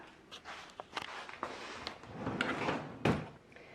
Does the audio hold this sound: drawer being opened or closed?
yes